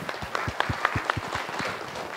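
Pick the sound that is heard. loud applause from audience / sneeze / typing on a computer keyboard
loud applause from audience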